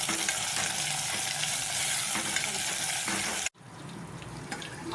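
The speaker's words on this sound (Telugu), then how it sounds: "పచ్చిమిర్చి దొండకాయలు పెట్టేసి వేపాలి" Ivy gourd and green chillies frying in a pan with curry leaves, a loud dense sizzle that cuts off abruptly, then resumes more softly.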